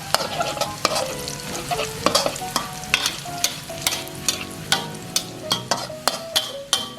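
Drunken-style Mama instant noodles with chili and garlic stir-fried in a pan, with loud, rhythmic scraping and clanking of a utensil over a continuous sizzle, nearby and with no speech.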